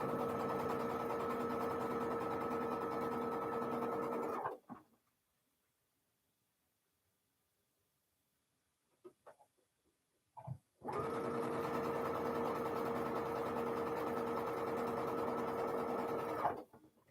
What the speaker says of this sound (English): Okay, ready to sew.